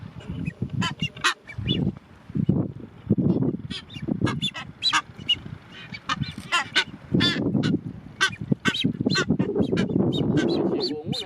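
Boobies at a nesting colony in Abrolhos marine park give harsh, honking, goose-like calls that overlap in rough bursts, loud and close, with a voice faintly mixed in.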